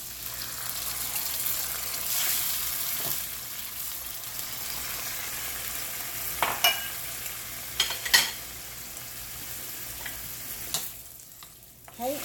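Stock poured into a pan of frying shrimp for shrimp scampi, giving a continuous hiss and sizzle with occasional clinks and scrapes of stirring, ending in a brief burst of noise.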